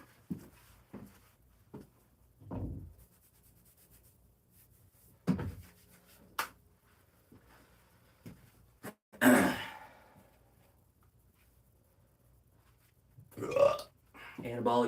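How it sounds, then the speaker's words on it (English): A person burps several times in a quiet room, with short, scattered belches and breathy sounds spread out, and one louder, longer burp near the middle. "Anabolic burps."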